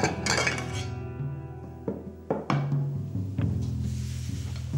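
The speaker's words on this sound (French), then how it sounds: "Sarah, tu vas mettre la table, s'il te plaît?" Plates and cutlery set down on a table for lunch in a family home: scattered clinks and clatters of dishes and silverware, several sharp knocks at irregular intervals, close by.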